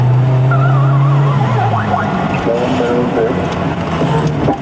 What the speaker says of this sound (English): Do you want some mad driving? High speed.